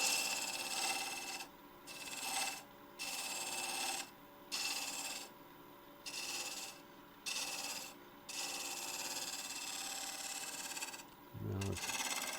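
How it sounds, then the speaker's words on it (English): A half-inch spindle gouge with a longer bevel rounds over the outside of a wooden mortar spinning on a lathe, giving a steady raspy scraping in a string of cuts separated by short pauses, fairly faint and without talk. "So we'll get a 1/2 inch spindle gouge to do this round over"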